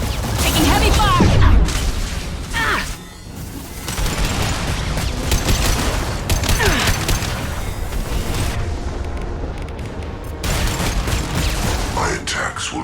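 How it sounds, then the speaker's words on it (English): Heavy gunfire in a Mass Effect 2 battle: dense, loud bursts of weapon fire and booming impacts roll on almost without pause, with a short dip partway, while voices shout over the din. "Taking heavy fire!"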